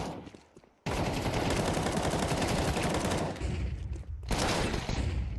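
Dense, loud bursts of rapid gunfire fill nearly the whole stretch in a Counter-Strike match during an upgraded pistol round, with a short gap midway and no commentary over it.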